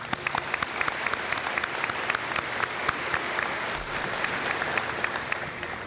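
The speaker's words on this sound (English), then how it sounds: "Please hold your applause until all the introductions have been made" Audience applause fills a military change of command ceremony for the 55th Wing, steady and sustained with many overlapping claps at moderate distance, no voices over it.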